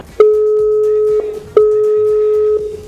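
Telephone ringback tone heard while a call is being placed: a steady electronic tone sounds for about a second, stops, then repeats once after a short gap. It is clear and alone, with no voices.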